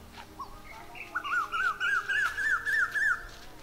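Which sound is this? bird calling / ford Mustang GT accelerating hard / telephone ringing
bird calling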